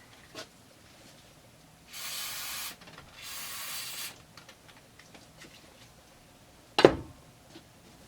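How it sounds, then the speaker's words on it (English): Carb cleaner from a spray can hisses in two steady bursts of about a second each onto a Husqvarna 394xp chainsaw carburetor at close range, followed by light handling noises and a sharp knock, with no talking. "Hit this with some carb cleaner."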